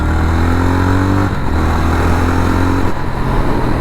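A Jawa 42 FJ 350 motorcycle engine revs up close and loud, rising in pitch, dropping back briefly, then climbing again in a second rev.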